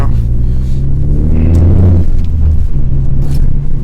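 Tuned Ford Focus ST with an E30 tune cruising onto the highway, a loud steady engine drone and road rumble heard from inside the cabin, the pitch climbing briefly as it accelerates.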